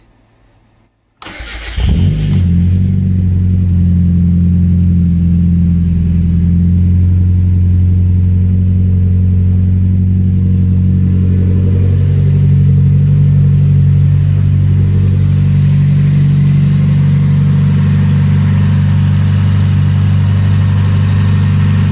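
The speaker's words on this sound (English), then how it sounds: "let's start up the Miata here and see what it sounds like" A Mazda Miata engine cranks briefly and catches after a spark plug replacement, then settles into a loud, steady, smooth idle that carries on unbroken, close up.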